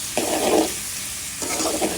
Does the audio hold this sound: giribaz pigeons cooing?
no